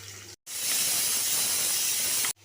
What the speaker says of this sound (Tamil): இப்போ வெங்காயத்தை சேர்த்துக்கலாம்.